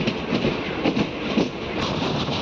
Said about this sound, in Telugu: గద్వాల్ నుంచి అయితే మన ట్రైన్ బయలుదేరింది